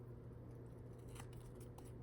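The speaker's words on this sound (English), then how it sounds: "I like to use my smaller scissors," Small Cutter Bee scissors snip the corners of paper tickets, a few quick, faint crisp cuts over a quiet background hum, no talking.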